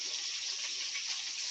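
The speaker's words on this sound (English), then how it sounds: "I'll give my hands a little rinse. Soapy water." Tap water runs steadily into a sink as soapy hands are rinsed, a continuous close hiss and splash with no speech.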